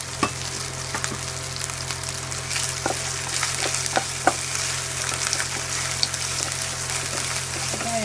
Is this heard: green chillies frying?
yes